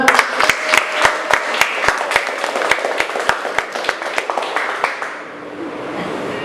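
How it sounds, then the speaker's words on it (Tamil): Small audience at a live show clapping for a child, sharp individual claps in a rhythmic, even beat with a few more hands adding to it, fading out after about five seconds. "ஜோரா கைத்தட்டுங்க"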